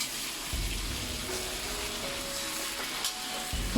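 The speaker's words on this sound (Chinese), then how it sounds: "稍微翻炒几下， 倒入切好的杏鲍菇丝，" King oyster mushroom strips stir-fried in a wok with green and red pepper strips, giving a steady loud sizzle with scraping stir strokes throughout, no talking.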